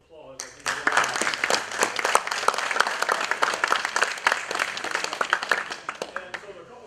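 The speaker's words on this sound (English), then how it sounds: "First round of applause." An audience at a college Constitution Week guest lecture breaks into applause, with crisp individual claps building quickly and continuing steadily before tapering off at the end.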